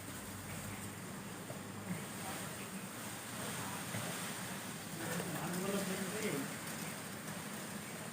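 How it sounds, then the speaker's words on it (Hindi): Strong storm wind blowing at night around a house and trees, a continuous gusting roar that swells in the middle, with faint voices talking beneath it. "रात को कल इतना तेज आंधी आई थी"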